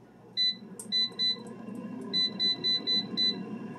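An air fryer beeps as its timer is set, sending out a string of short, clear electronic tones in two bursts of button presses over a low kitchen hum.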